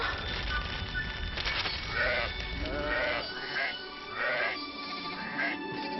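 Several sheep bleat in a series of short, wavering calls, fairly close, one after another over a faint background hiss.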